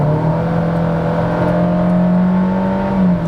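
Honda HR-V Touring 2021 in Sport mode launching hard from a standstill toward 100 km/h, its engine droning loud and close with a steady tone whose pitch climbs slowly throughout, no talk.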